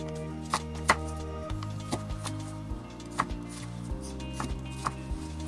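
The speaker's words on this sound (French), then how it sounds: "Et ensuite, on vient couper les tranches en bâtonnets," Knife chopping potato slices into sticks for poutine on a cutting board, a steady series of close, crisp chops over background music.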